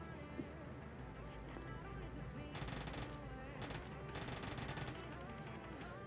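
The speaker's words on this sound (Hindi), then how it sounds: "उसे मैं यूजी से बहुत सारा हिट देता हूँ पर बंदा नॉक नहीं होता है" Rapid UMP submachine gun fire in PUBG Mobile Lite during a duo versus squad match, dense bursts of automatic shots running continuously through the clip with busy game sounds underneath.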